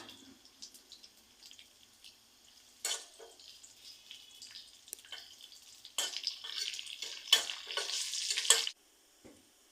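Whole cumin, dried chillies and bay leaf hit hot ghee for a vegetarian khichuri, giving a soft crackling sizzle that swells into louder bursts as stirring scrapes the pan, then drops away near the end.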